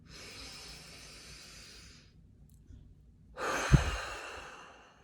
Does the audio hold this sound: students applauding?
no